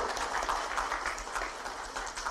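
Sustained, dense clapping from an audience at a Jharkhand government tourism ceremony, a steady wash of many hands with no clear gaps, moderately loud and continuous throughout.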